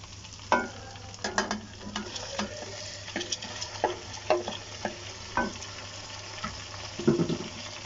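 Tomatoes and green chillies go into frying dal maash, followed by stirring, a soft sizzle under scattered scrapes and knocks of a spoon in the pan, with a few sharper clatters near the start and end.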